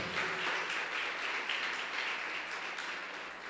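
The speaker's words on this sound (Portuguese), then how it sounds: "Você pode aplaudir o nome do Senhor?" Church congregation applauding the name of the Lord during a sermon, a soft, diffuse wash of many hands clapping at a distance, steady and fairly faint throughout with no voices on top.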